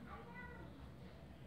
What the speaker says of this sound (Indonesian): Ada kucing lah.